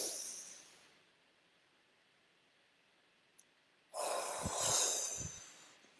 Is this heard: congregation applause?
no